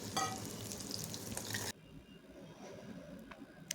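Small onions, curry leaves and garlic frying in oil: a dense crackling sizzle for about a second and a half, then dropping abruptly to a softer, quieter frying hiss with faint stirring.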